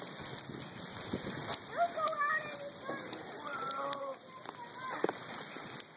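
Large hailstones fall during a hailstorm, a constant soft pattering and drumming like heavy rain on surfaces, with people talking and exclaiming over it.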